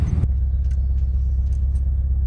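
Inside a Volkswagen Vanagon on a rough ungraded road, a steady deep rumble is broken by faint scattered rattles, opening with a brief loud burst, and no one speaks.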